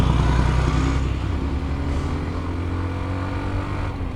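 A Hero Xtreme motorcycle engine drones steadily up close in second gear, its low rumble holding and rising slightly as it pulls under load, with no voices.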